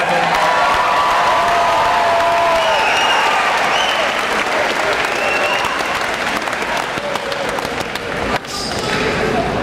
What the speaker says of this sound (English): how about some good karma applause for the Bruins tonight